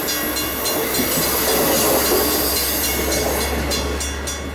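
A train rushing past at speed with a loud, continuous roar and hiss of wheels on rails, close and steady, with faint rhythmic clicks near the end and no voices.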